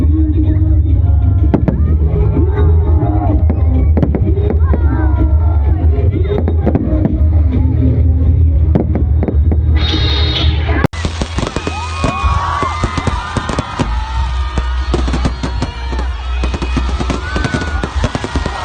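Dense popping and crackling bursts of fireworks go off continuously at the Timpupo festival in Kidapawan City, loud and close, with a crowd murmuring underneath.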